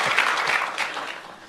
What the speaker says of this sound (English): Let's give one more round of applause to Lee, Barbara, all of our panelists for a fantastic conversation.